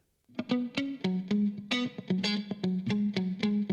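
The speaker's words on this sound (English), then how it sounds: "So if we now send that to our chamber reverb," A funky electric guitar lick sent through a UAD Capital Chambers chamber reverb, its choppy plucked notes ringing out with a roomy tail and bright twangy top, played alone.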